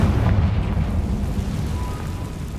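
A Confringo blasting spell explodes in Hogwarts Legacy, a loud, broad, rumbling blast that rolls on as a steady low roar through the whole short moment, with no voices over it.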